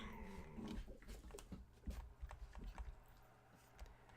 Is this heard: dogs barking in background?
yes